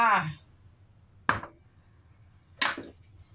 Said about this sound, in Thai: มีกุ้งหั่นชิ้นเล็ก ๆ นะคะ